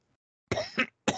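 Two or three harsh coughs in quick succession, loud and close, breaking a silent pause on a live radio broadcast.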